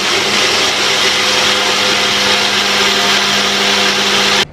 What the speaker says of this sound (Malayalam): തണുത്ത നമ്മുടെ ആ മിക്സ് കൂടി ഇതിലേക്ക് ഇട്ട് നല്ലതുപോലെ ഒന്ന് അടിച്ചെടുക്കണം